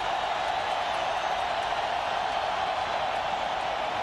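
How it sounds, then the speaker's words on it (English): Stadium crowd at a 1998 Tennessee college football game, a dense, steady roar of many voices with a hiss-like wash of cheering, continuous and fairly loud throughout. "Looks like the crowd wants to get back in it now that they've heard that Ohio State score"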